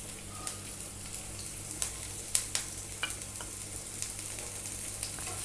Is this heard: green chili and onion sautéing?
yes